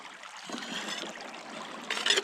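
Water flows and trickles steadily at a gold-prospecting trommel site, a soft continuous splashing that swells brighter near the end, with no talk over it.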